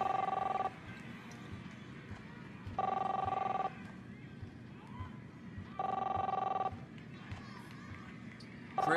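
An old-style telephone bell rings in the video game Captain Spirit, three evenly spaced bursts of bright, steady ringing with quiet gaps between, over a low background hum.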